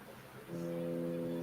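A foghorn sound effect is played back as a single deep, sustained blast that starts after a brief quiet moment and holds steady to the end.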